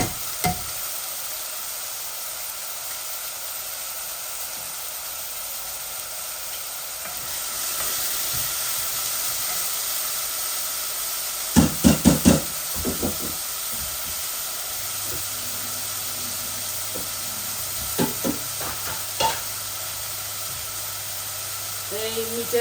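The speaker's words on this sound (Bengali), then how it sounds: "আমি শুটকিটা বাগার দিয়ে বসাচ্ছি" Dried shutki fish fries in hot oil with garlic, producing a continuous bright sizzling hiss that swells partway through, broken by a few sharp clattering utensil hits and a quiet hum, with occasional speech alongside.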